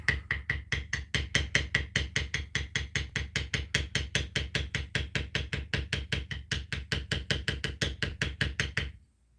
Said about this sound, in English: Go back through where I hit it with the steep bevel too.